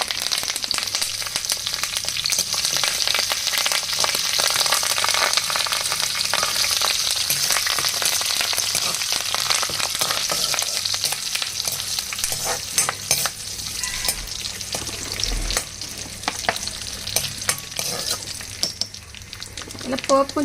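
Cumin seeds, broken dried red chilies and curry leaves fry in hot oil in a pan, a continuous close sizzle with crackles and stirring scrapes, a voice speaking intermittently over it.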